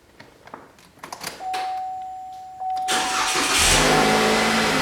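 A 2.5L Chevrolet Impala engine cranks and catches, rising into a loud, steady idle close by after a faint tone and some quiet handling noises.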